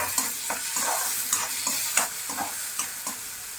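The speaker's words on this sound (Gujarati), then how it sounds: "હવે એની અંદર ડુંગળી આપણી થોડી ક્રન્ચી થાય એટલે આપણે એની અંદર ટમેટા નાખી દઈશું અને એને પણ મિક્સ કરી દઈએ।" Onions and tomatoes being stirred and frying in a pan for oats upma, a steady sizzle broken by repeated scraping strokes of a spoon, close and fairly loud with no talking.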